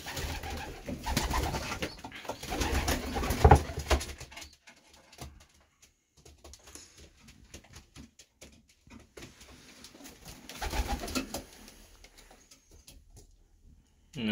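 Racing pigeons coo and shuffle in a loft during banding, with soft murmuring bursts near the start and again around the eleventh second, separated by quiet stretches.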